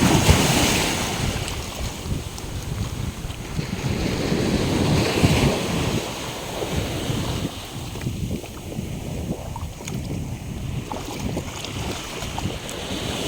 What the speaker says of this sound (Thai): เวลาคลื่นเข้ามาแรง